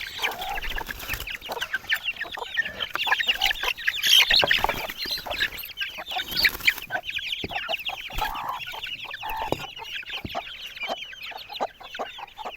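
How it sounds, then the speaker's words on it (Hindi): A flock of chickens clucks busily and continuously, many birds close by, with scattered louder squawks and no talking. "और अब हम निकालते हैं मुर्गियों को"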